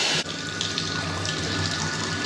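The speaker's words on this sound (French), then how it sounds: "la baignoire avec le robinet à fontaine" A bathtub's waterfall-style faucet pours a steady broadband rush of running water, close and continuous for the whole stretch, with no one talking.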